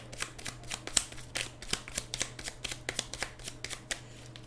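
Tarot cards being shuffled by hand in quick repeated riffles and flicks, a soft papery rhythm of about two dozen crisp strokes, close and quiet, with a faint steady hum underneath and no talking.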